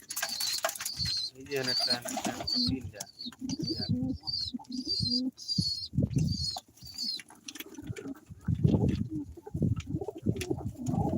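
Pigeons cooing on a small hobby farm, low repeated coos mixed with faint wing flutters, heard under nearby conversation.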